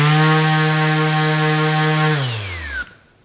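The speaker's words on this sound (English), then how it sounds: "I'll let you hear just the sander as far as the noise level" MAXXT 6-inch brushless random orbit sander running alone at top speed, a loud, close, high-pitched whine that holds steady for about two seconds and then quickly spins down and fades out.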